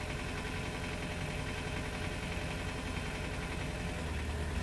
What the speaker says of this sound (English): Start up the engine and fully extend the cylinder.